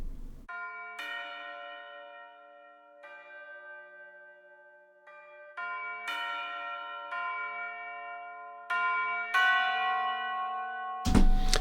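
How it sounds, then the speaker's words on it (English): A deep, huge bell-like impact sound effect made of several successive metallic strikes, each ringing out with a long sustained tone and slow decay, growing louder toward the end with a sharp final hit, alone without talk. "great deep bell-like texture, sounds like a huge bell"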